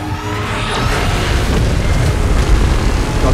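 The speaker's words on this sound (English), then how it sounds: "Is it gonna fire a beam at us?" A beam attack from Godzilla in PUBG Mobile: a loud, sustained booming rumble like a continuous blast, roaring steadily for a few seconds with no speech.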